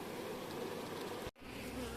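A dense, steady hum of many honeybees buzzing close by at a hive, interrupted by a brief dropout near the end.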